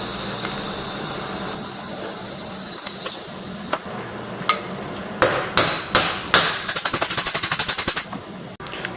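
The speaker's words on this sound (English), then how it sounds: "I'm going to pound on this and see if it goes through" A hammer pounds on a stuck rear hub bearing race from a Nissan S13, heated with a TIG torch and clamped in a vise. Scattered sharp metallic blows build into a fast, loud, ringing burst of strikes near the end.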